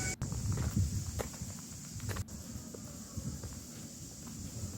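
Footsteps crunch along a sunny mountain path in Taiwan at an uneven pace, close by, over a steady high-pitched insect hiss.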